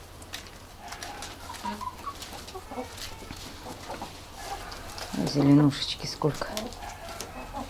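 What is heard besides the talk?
chickens clucking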